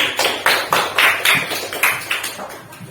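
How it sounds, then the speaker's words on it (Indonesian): Several people in a classroom clapping in a quick, uneven burst of applause for a group of fourth-grade students, about a dozen distinct claps fading slightly over a few seconds. "kasih tepuk tangan buat kelompok 1"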